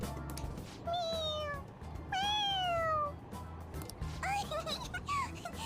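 A cartoonish cat in Persona 5 Royal lets out several rising-and-falling meows in a row, clear and close over a faint game background.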